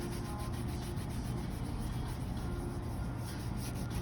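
Steady close rubbing of a cloth over a leather boot during shining, an even continuous friction with no pauses.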